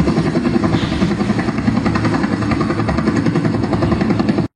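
A helicopter-style amusement park ride runs at a park in Narsingdi, giving a loud continuous motor drone with a steady rapid throb that lasts throughout before cutting off abruptly.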